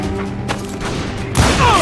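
Gunfire in the western shooter game Call of Juarez: Gunslinger, with scattered shots giving way to a loud, dense burst of fire near the end, all set against a steady game background rumble.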